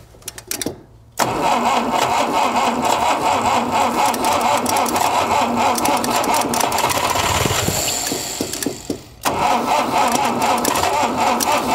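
A 1960 Mercedes-Benz 190B engine, sitting unstarted for about 50 years, cranks briefly and then runs with a loud, steady mid-pitched drone that dips for a moment, cuts out and picks up again, close to the microphone.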